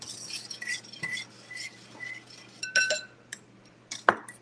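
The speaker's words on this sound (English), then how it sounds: "So we're going to mix that together." Almond milk being stirred into a vegan olive oil cake batter by hand: a utensil scrapes and clinks against a bowl in irregular bursts, close and fairly quiet, ending with a sharper knock, with no speech.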